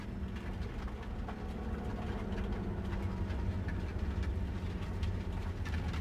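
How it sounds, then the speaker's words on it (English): A massive train in the video game Cyberpunk 2077 gives a steady, low engine rumble like heavy machinery idling, continuous and fairly loud for the whole stretch, with no voices. "So that's the train we're gonna use, it looks like."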